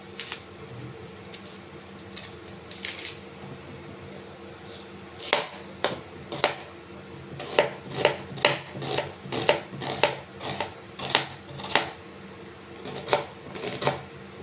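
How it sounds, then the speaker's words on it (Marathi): A knife chops an onion on a cutting board for ridge gourd sabzi, sparse at first and then a quicker run of sharp, close taps in an otherwise quiet kitchen. "सर्वात पहिले कांदा कट करून घ्यायचा।"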